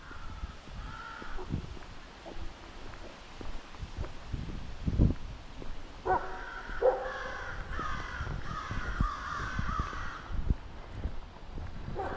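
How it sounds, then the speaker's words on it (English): Crows cawing from trees along a rural roadside walk near Lewiston, Maine, a few harsh caws early, then a run of repeated calls, at middle distance over footsteps and rustling, with no talk. "The crows are going caw, caw, caw, caw."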